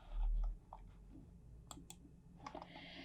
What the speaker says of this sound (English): So I'm just going to click on that.